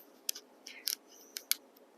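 A knife slices through a raw Magic Molly purple potato in a few quiet, crisp snips and crunches spread across a short moment, with no talking.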